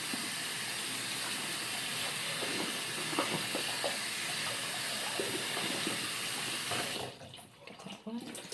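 Plain running water used to clean the skin around an ostomy, a steady close splashing hiss from a tap that cuts off near the end, leaving quieter rustling.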